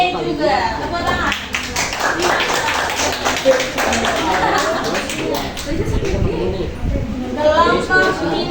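A class group claps steadily for a while, the applause dense and continuous with voices mixed in throughout.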